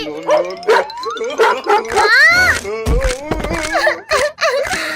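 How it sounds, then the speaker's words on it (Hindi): A cartoon dog barks and yips in repeated loud bursts, mixed with excited cartoon voices speaking over it. "मत काटो डॉगी"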